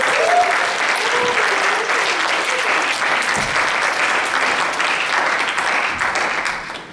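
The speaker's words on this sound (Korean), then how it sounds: "저희 선웅 간사님을 뜨거운 박수로 한번 모셔볼까요?" Warm applause from a church youth-service congregation in Auckland, steady dense clapping filling the room for about seven seconds before thinning out at the end.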